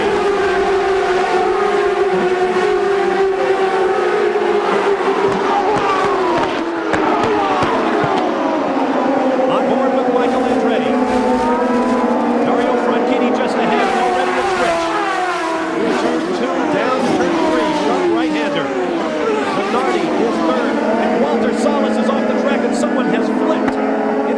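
A field of race cars roars away at the green-flag start of the Texaco Havoline 200 at Elkhart Lake, loud continuous engine howls rising and sweeping past as cars crest a hill, with a commentator talking over it throughout.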